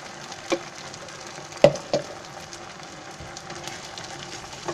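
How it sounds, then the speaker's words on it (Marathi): A tomato and potato gravy with chili sautés in oil over a high flame, giving a soft, steady sizzle broken by a few sharp clinks of a utensil against the pan. "हे कसं तेल सुटेपर्यंत आहे ना 2-3 मिनटं हे असे चांगलं परतून घ्यायचं गॅस फास्ट करून"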